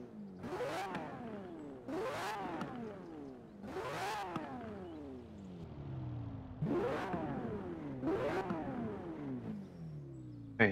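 Lamborghini Murcielago LP670-4 SV V12 revving in Forza Horizon 4, five sharp throttle blips each climbing and then falling away, with brief pauses between, close and prominent.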